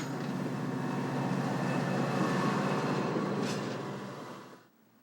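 A Burlington Northern bi-level commuter train pushed from the rear by a diesel locomotive rolls past on a double-track main line near Chicago, a steady rumbling roar with wheel clatter that builds, holds, then fades away quickly.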